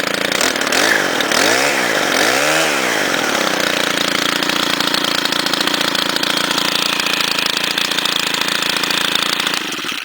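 A Stihl FS90 string trimmer engine, its spark arrestor screen removed, revs up and down twice in quick sweeps, then holds a loud, steady high-speed drone before easing off at the end, close to the microphone.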